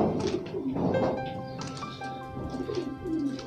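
Racing pigeons cooing close by in a loft, several overlapping soft throaty coos repeating in a steady murmur with no voices.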